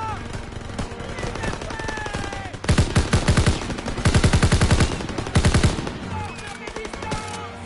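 Loud automatic gunfire in Call of Duty WWII on PS4, several sustained machine-gun bursts with short gaps between them, close and dominant, with a player talking over the shooting.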